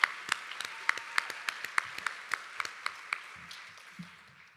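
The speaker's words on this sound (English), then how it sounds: "We can clap for them, that's fine." Scattered applause for a sponsor at a women's awards event: a small audience's distinct, fairly sparse hand claps that thin out and fade toward the end.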